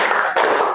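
A class claps hands together in a short burst, a dense, loud flurry of claps with a brief gap near the middle, no talking over it.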